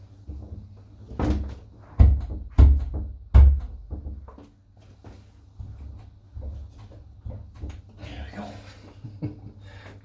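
A door rattles and knocks in a series of sharp wooden bangs, several close together early on and then softer scattered clunks, heard in a room while shaving with Omega shaving cream.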